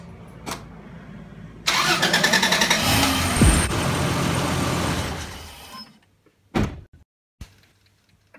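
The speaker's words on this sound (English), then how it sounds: "Start the car for a couple of minutes." A Toyota 80 Series Land Cruiser engine cranks and fires, then runs loudly for a few seconds before shutting off, followed by a couple of door thuds and clunks.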